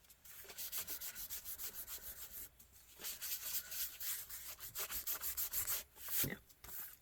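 Paper in a Halloween junk journal is blotted and rubbed in quick repeated back-and-forth strokes, a close, steady swishing friction with brief pauses and a couple of firmer presses.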